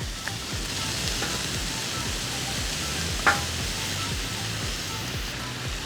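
Montreal-seasoned strip steaks sizzle loudly and steadily in a pan, a dense, continuous frying hiss up close, with a faint knock partway through.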